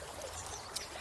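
River water streams and trickles steadily along a riverside walking path, a faint, even flow with no voices over it.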